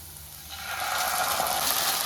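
Onions frying with a tablespoon of chilli sauce in a pan on medium flame for gobi Manchurian, with a soft sizzle that starts after a quiet moment and then holds steady.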